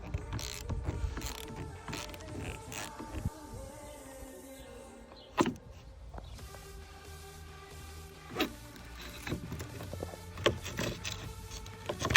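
A bolt is tightened while a replacement mirror is fitted on a Ford Fiesta Mk6, with faint ratcheting clicks, small mechanical rattles and occasional knocks close by in a quiet setting.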